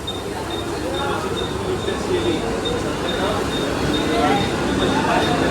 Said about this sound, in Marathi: त्यामुळं दोन ट्रेन थांबल्या